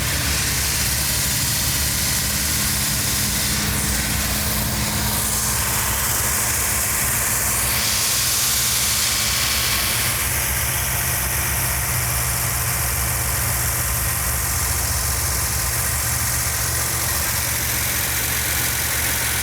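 A Mopar 440 Six Pack V8 in a Jamaica Blue B-body idles steadily and loud up close, a continuous rumbling throb with valvetrain clatter and a faint pitch rise mid-clip as the timing is advanced; no voices.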